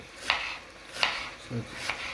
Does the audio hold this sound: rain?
no